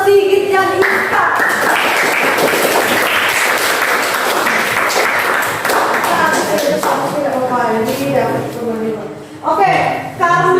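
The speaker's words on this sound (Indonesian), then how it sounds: "tepuk tangan untuk Sigit yang diikat" Students in a classroom give a student named Sigit a round of applause, loud and sustained, with talking heard before and after the clapping.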